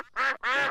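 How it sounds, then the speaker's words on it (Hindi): Cartoon ducks in a Hindi-dubbed Peppa Pig episode give two loud, close, nasal quacks in quick succession, with no other sound. "बत्तखों को और खाना चाहिए।"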